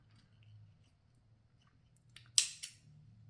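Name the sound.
thread cutter cutting thread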